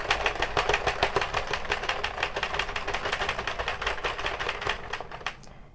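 Addi or Sentro knitting machine cranked around one full turn while knitting a child's bumble bee hat, giving a steady rapid clicking rattle of hooks that fades out at the end.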